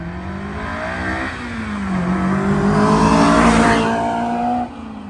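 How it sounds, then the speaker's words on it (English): A Honda S2000 with a UK mod exhaust revs up and drives off. The loud, close engine note climbs in pitch through the rev, holds, then drops away sharply. "I'm gonna get some sound clips of this so you can hear what the UK mod sounds like."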